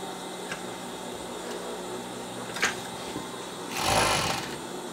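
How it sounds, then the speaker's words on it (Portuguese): An overlock sewing machine stitches dog sweatsuit fleece in a steady, close mechanical whir, rising into a louder, denser burst of stitching near the end. "Ou já pode passar o overlock aqui e daí é só passar uma costura na reta"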